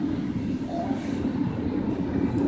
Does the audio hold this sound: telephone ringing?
no